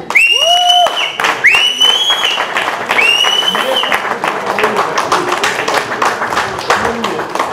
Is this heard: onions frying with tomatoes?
no